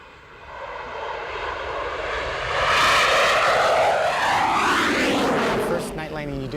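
F-18 Hornet jet landing on an aircraft carrier deck with the throttle pushed to full power, a loud roaring engine swelling as it passes close by and then sustaining a heavy, sweeping rumble.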